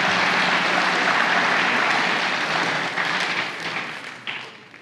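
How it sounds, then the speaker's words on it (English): At a fire and EMS graduation ceremony, the crowd applauds the graduates' parents, friends and relatives. The clapping is thick and sustained, then thins and softens near the end. "I asked the students to give those parents, friends, and relatives a round of applause"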